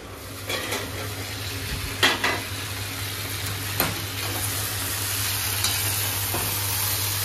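Mixed vegetables for Bengali shukto being slowly sautéed on low heat in a pan: a steady soft sizzle runs throughout, broken by occasional scraping stirs and light clinks of a spoon against the pan.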